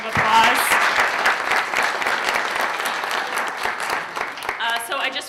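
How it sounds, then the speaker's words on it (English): Audience applause for conference panelists at a 2017 indicators panel, a sustained round of clapping from a seated crowd that swells early and fades toward the end, with faint voices emerging as it dies down. "Let's give them one more round of applause."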